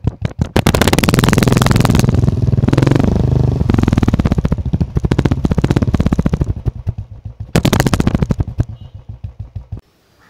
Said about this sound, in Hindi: मैं साइलेंसर की प्लस हॉर्न की आवाज़ सुनाऊँगा इन दी एंड